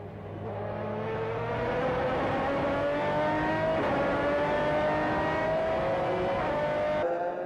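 A TWR race car, from the Salisbury team, at the 2004 Le Mans Endurance Series, with its engine note rising and sustained loud and near throughout as it comes into the pit lane, with no talk over it.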